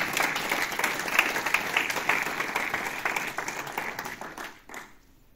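A church congregation at a French-language conference applauds and cheers for Jesus, sustained dense clapping that swells then fades out toward the end, with faint voices mixed in.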